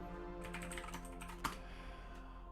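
Keys on a computer keyboard clatter in quick, uneven bursts of typing, fairly soft and close by in a quiet room.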